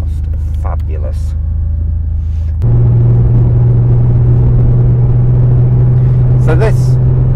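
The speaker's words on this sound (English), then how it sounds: "That is unmistakable 911 Turbo." A 1984 Porsche 911 Turbo engine starts up, settling into a loud, close, deep idle rumble with a steady low drone. Someone talks briefly over the opening moments before the car fires, and again near the end.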